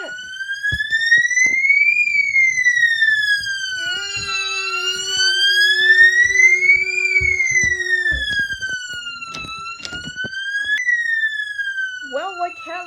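A school fire alarm sounds during a fire drill as a loud, electronic wail sweeping up and down in long cycles, joined midway by a steady tone, with scattered clatter underneath.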